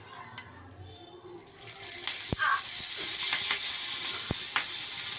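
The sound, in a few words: stuffed chillies frying in oil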